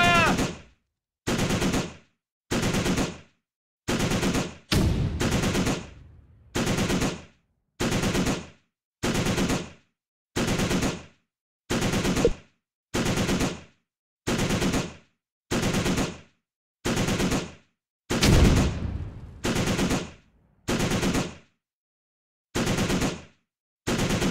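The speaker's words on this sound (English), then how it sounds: "taking fire!" Repeated bursts of machine gun fire in the Close Combat video game, Sword Beach battle, each burst about a second long and separated by regular short gaps, loud and steady throughout.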